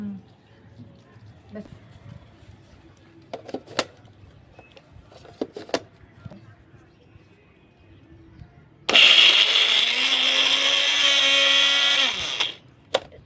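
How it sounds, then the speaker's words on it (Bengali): A kitchen mixer grinder coarsely blends sweet corn for corn paratha, starting abruptly with a loud, steady whir that runs for several seconds and then cuts out. Before it starts there is quiet room noise with a few clatters, and people talk. "আমি একটু সুইট কর্নটাকে হালকা একটু মিক্সিতে করে দেবো, একদম মিহি করবো না"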